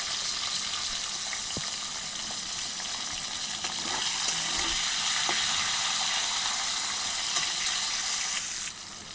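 Chopped tomato frying in a pan with whole cumin seeds and slit green chillies, a steady loud sizzle throughout with a few stirring clicks, intensifying midway, no talking.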